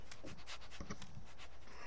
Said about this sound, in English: Oh, look at that poor dog.